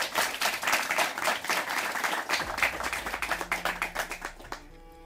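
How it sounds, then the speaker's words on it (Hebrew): An audience gives a sustained round of clapping in a hall, dense and close, fading slightly toward the end. "מגיע לו כפיים, מה תנו לו מה?"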